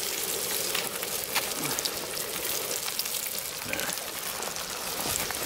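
Crappie fillets fry in oil that is a little too hot, giving a dense, steady crackle and sizzle close by that holds the whole time, with one short spoken word.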